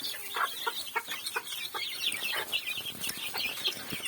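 A bantam hen clucks repeatedly in short, quick bursts, close by, with soft chirping from other birds mixed in.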